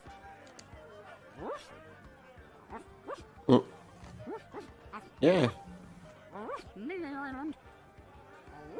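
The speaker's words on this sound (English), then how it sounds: "Hey, look, there's a dog there." A cartoon dog in the point-and-click adventure game Secret of Monkey Island gives a few sparse yips and whimpering barks, spread out and moderate in level, while people talk over the game audio.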